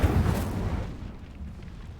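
Incendio fire spell cast in Hogwarts Legacy, a single deep whooshing burst of flame that booms at onset and fades away over about a second, heard alone.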